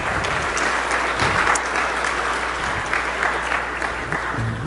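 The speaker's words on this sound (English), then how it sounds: "Give him a round of applause." A church congregation gives a dense, sustained round of applause for a young speaker, a continuous wash of clapping filling the space from start to finish.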